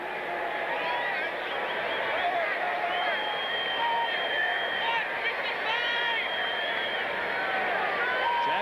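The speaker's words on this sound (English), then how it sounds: "Some of the fans starting up a cheer for Randall Cunningham." Football crowd at a 1986 Chargers–Eagles game in Philadelphia, fans starting up a chant for Randall Cunningham, a broad, steady roar of distant voices that stays even throughout beneath a play-by-play announcer's talk.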